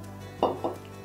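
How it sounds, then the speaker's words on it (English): Brewed Gesha coffee is stirred with a utensil in a brewer, giving two brief clinks a fraction of a second apart over a quiet steady hum. "Give it a good stir."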